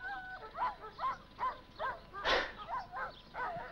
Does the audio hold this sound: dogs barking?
yes